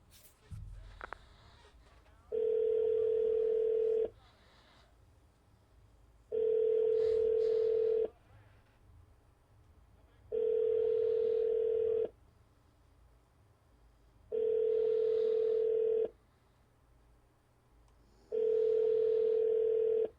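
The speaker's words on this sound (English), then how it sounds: "Let me try dialing again." Telephone ringback-style tone heard while dialing a call: five long, even beeps, each about two seconds, separated by equal gaps of near silence, clear and close with faint background hum and no talking.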